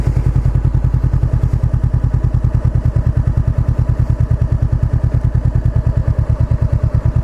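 A motorcycle creeps through a tight turn at full steering lock on the clutch during rider-training practice; the engine gives a close, even, rapid thumping near idle that holds steady throughout, with no voices.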